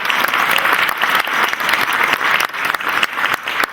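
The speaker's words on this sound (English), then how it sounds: "So a big round of applause to the Smith Center for being so beautiful." A theatre audience at the Smith Center in Las Vegas applauds steadily: dense, loud clapping fills the whole stretch with no pauses and no voices on top.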